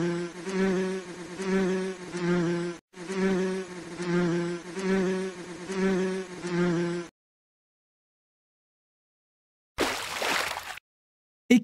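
A bee buzzes in a garden in repeated close, droning bursts with short pauses between them. The buzzing then stops, leaving silence broken by a brief burst of noise.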